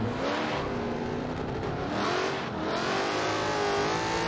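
A race car engine revs and accelerates in a racing video game, its whine climbing and falling steadily at close range with no talk over it.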